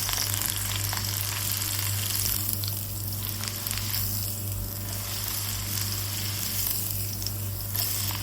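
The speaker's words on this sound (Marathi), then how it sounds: "आता आपण कढीपत्ता पण त्यात तळून घेतोय." Curry leaves frying in hot oil alongside crushed garlic for poha chivda, a dense, steady crackling sizzle that stays loud and even throughout, with no voices over it.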